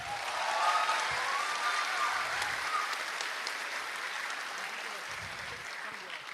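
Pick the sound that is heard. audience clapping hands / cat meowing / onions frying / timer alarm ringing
audience clapping hands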